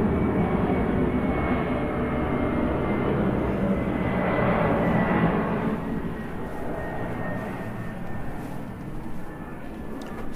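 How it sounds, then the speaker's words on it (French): An airplane passes overhead outside a white fortress, a low continuous engine drone that swells slightly toward the middle and then eases off, heard alone without talk. "Alors ce qu'on entend, c'est un avion."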